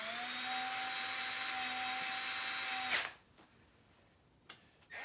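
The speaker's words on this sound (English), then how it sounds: "we're just going to run them in with a drill for now because we're going to torque them all down" A power drill spins nuts down onto cylinder head studs of a Chevy Mercruiser engine, a steady loud whine with a held tone for about three seconds, then it stops abruptly, leaving quiet room noise and a couple of faint clicks.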